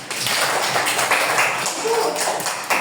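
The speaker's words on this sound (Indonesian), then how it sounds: "Tepuk tangan" First-grade children clapping in a classroom, a busy scattered patter of small hands at steady moderate volume, with brief voices breaking through the clapping.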